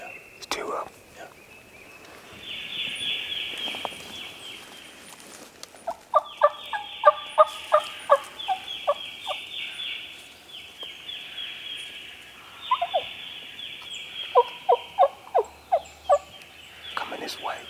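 Wild turkey gobblers in spring gobble repeatedly in Mississippi woods, bursts of rapid rattling calls recurring at mid distance, with hushed whispering between them.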